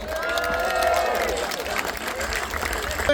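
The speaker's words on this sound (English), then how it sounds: "Give yourselves a round of applause." A large outdoor crowd at the Durham Miners Gala applauds and cheers, a steady roar of clapping and voices, with some talk mixed in and a faint tonal sound behind it.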